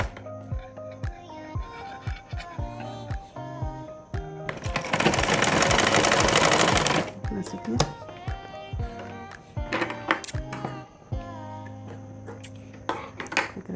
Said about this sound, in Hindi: इधर भी सिल देंगे, इसको बराबर करके